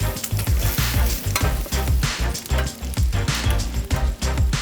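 Bacon cooking on a grill for a street-food sandwich, a loud, close crackling sizzle full of dense pops and spatter that runs the whole way, with no voices over it.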